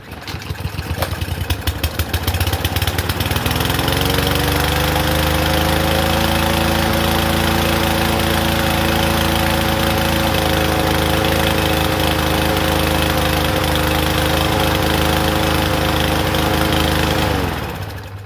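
A Troy-Bilt TB110 push lawn mower engine catches after a few rough seconds, then runs loud and steady at a fixed idle-like drone nearby before cutting out near the end.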